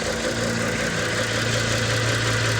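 Mazda CX-7 engine idling with a misfire, a steady close mechanical hum with a low uneven pulse running underneath throughout.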